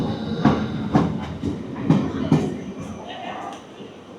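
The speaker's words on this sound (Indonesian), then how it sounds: "OBB Railjet dengan lokomotif Siemens Vectron." Austrian ÖBB Railjet train hauled by a Siemens Vectron locomotive, heard from a station platform with rhythmic clickety-clack of wheels over rail joints as cars roll past nearby, while people talk in the background.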